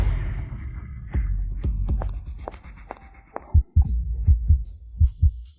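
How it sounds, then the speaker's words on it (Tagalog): Thumping heartbeat effect in a romance drama set in an office, a run of deep double-beat pulses that grow louder and more distinct toward the end, with no voices over it. "Bakit ang bilis ng tibok ng puso ko?"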